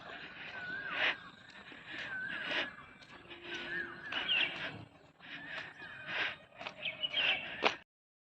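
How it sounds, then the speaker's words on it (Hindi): Asian koel calling outdoors at dawn among trees, repeated rising whistled calls at moderate distance with other birdsong around and light footsteps or handling noise. "कोयल की बहुत अच्छी आवाज़ आ रही है।"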